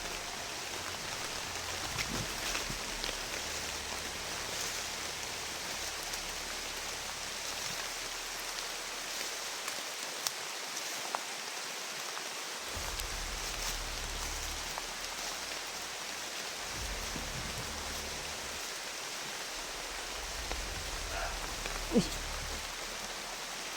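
Heavy rain pours down in the dark as a dense, continuous hiss of drops on surfaces. It stays fairly even in loudness across the stretch, with faint voices now and then underneath.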